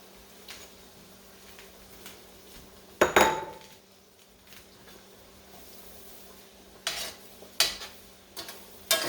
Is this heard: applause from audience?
no